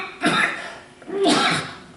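Two sharp, explosive coughs about a second apart, close and fairly loud, with a brief pause between them.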